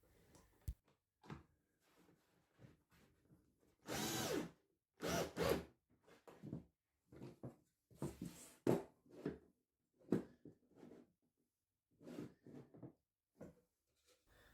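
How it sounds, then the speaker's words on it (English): A power drill drives screws through wooden framework packers into MDF behind, in short whirring bursts of varying length separated by pauses, fairly close and moderately loud, with small clicks and handling noises between. "I've glued some packers on the backside and then I'm screwing through into the MDF behind"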